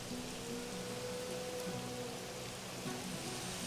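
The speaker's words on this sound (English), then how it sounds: "Pure ASMR rain on the rooftop sounds." Steady rain patters on a rooftop in the city-building game Anno 1800, a soft, even wash of drops that continues throughout, with faint tonal game sounds underneath and no talking.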